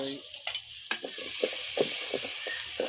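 Onions added to browned garlic sizzle in a hot pan, a steady crackling fry with brief stirring scrapes, close and fairly loud.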